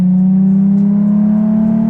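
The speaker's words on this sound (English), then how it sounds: "I'll try to rev it up as high as I can" A Nissan 370Z Nismo engine drones loudly and steadily at a fixed low pitch, close up, with no clear rise in revs.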